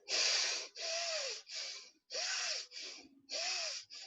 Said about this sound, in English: Bhasrika is when you are breathing, inhalation, when you are inhaling and exhaling forcefully.